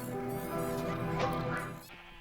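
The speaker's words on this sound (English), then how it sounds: "Hello, sheep. You ready to be sheared?" Sheep in the video game Embark bleat in a single drawn-out, wavering call, loud and close, fading out at the end with no voice over it.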